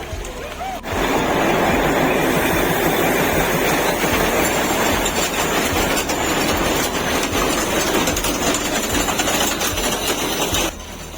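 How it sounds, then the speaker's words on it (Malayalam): Matheran toy train running near the market, a loud steady rumble and clatter of carriages that fills the clip from about one second in and cuts off near the end. "ഇതാണ് മാർക്കറ്റിലെ ടോയ് ട്രെയിൻ."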